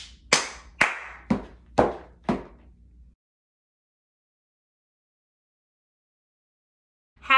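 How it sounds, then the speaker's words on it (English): Body percussion in a primary music lesson: five sharp, separate claps and taps in an uneven rhythm, close and clear, followed by silence and a brief sound at the very end. "Body percussion is when you use your body to make percussion sounds like this."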